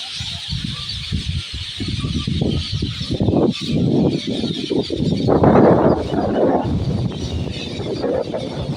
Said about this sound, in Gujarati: તળાવની પાડે નકરા પોપટનો અવાજ તમને આવતો હશે